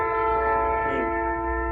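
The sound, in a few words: Skunk Train heritage railway train passing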